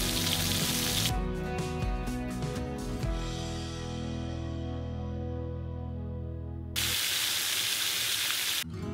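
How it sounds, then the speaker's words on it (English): Steaks cooking in a skillet give a steady, broad sizzling hiss that runs throughout, mixed with a tonal ringing layer that fades midway before a loud burst of hiss returns near the end. "While my steaks are finishing up cooking in the skillet"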